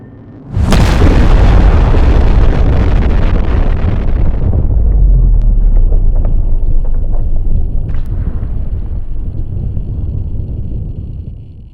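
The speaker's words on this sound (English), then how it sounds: "Airstrike complete." Airstrike explosions in the video game Ground of Aces: a sudden loud blast bursts in near the start, followed by a long rumbling roar that slowly fades over several seconds.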